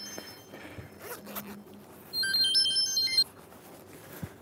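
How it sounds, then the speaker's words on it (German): A mobile phone rings once in a short melodic burst of about a second, mid-level and close, between quieter rustling and handling noises indoors. "Oh, mein Telefon."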